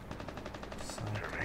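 Rapid automatic gunfire in Rainbow Six Siege, a fast string of quiet, evenly spaced shots heard at a distance, with in-game electronic tones rising near the end.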